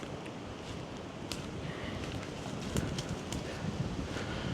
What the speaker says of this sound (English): It is rather windy today.